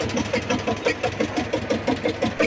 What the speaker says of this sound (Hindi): ट्रैक्टर की सवारी कर रही हूँ। काफ़ी इंटरेस्टिंग है और इसकी आवाज़ जो है वो काफ़ी ज़्यादा है